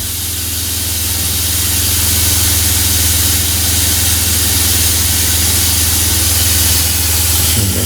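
Hot water runs from the bathroom sink faucet of a Winnebago View or Navion 24T RV during de-winterizing, a loud, close, steady rushing hiss that holds without a break and with no talking.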